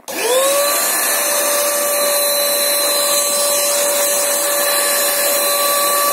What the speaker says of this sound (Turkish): Süpürge makinemizi de çalıştırıyorum.